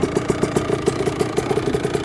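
A warmed-up car engine idles steadily before clutch practice, a loud, even rapid pulsing chug with mechanical clatter, heard close and alone.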